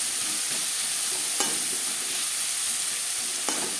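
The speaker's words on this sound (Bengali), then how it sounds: "লবণ হলুদ আলুর সাথে বেশ ভালো করে মিক্স করে দেবো।" Potatoes with salt and turmeric are stirred in a hot frying pan, a steady close sizzle broken by a few sharp scraping strokes of the utensil, with no talking.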